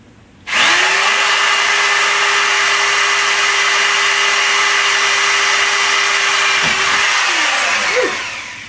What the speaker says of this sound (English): always make sure you pull the drill out before you stop it